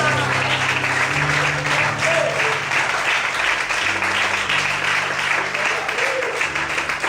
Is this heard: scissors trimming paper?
no